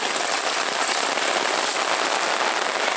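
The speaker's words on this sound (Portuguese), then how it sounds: "Chuva aqui na monumental cidade de Sobral." Heavy rain pours steadily in Sobral, Ceará, a loud, dense, even hiss of drops hitting the ground and surfaces close by, with no voices.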